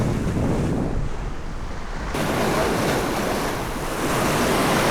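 Strong wind and breaking waves on the seashore during horse mackerel fishing, a steady loud roar of surf with gusty wind buffeting the microphone, rising again toward the end, no speech.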